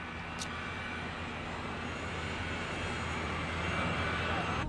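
A fixed-wing airplane in flight, heard as a steady, broad engine drone from inside or near the aircraft, continuous and even for the whole stretch with no clear talk over it.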